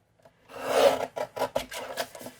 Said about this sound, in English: We'll trim a piece of black down because I like to mat everything on black